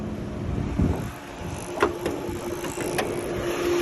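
A quiet Chevrolet Captiva 2.4 petrol engine idling with a low, steady hum beneath faint background noise and a few small clicks.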